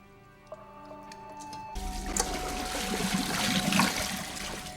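Water leaks and spills over the rim of an overflowing bucket in a dim apartment, starting with a faint drip and then a sudden steady trickling, splashing wash that swells gradually.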